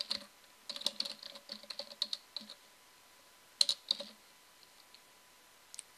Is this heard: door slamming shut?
no